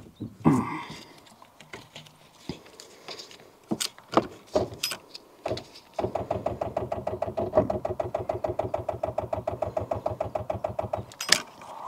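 A Rover 800 left abandoned for 15 years, with a failing starter motor that cranks without the engine catching. Scattered clicks and knocks come first, then several seconds of fast, even, loud cranking pulses that stop abruptly.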